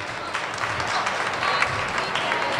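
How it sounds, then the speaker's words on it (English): An audience applauds a speaker coming onto the stage, a dense burst of clapping that swells slightly and holds steady for a couple of seconds, close and fairly loud. "Please give him warm applause."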